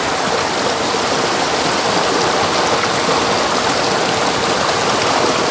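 Steady, dense rush of water splashing and pouring as laundry is rinsed by hand, continuous and close throughout, with no talking.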